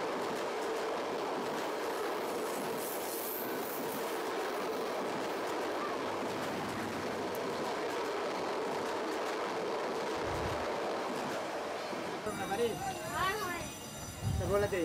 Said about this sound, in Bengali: এই ইন্টারসিটি ট্রেন পাশ কাটিয়ে চলে যাচ্ছে আমাদের ছেড়ে।